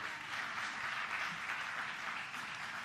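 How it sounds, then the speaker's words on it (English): Faint, distant applause from a church congregation for the music team, an even patter of clapping sustained throughout. "Can we get a round of applause for the music team,"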